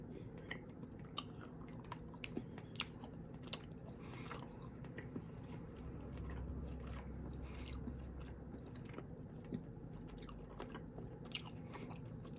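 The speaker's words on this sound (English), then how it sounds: "Milk Duds. It takes me 45 minutes to eat one of these things." Milk Duds chocolate-covered caramel candies chewed close to the mic, giving soft, sticky, continuous squishing and mouth clicks with occasional sharper smacks, steady throughout and with no talking.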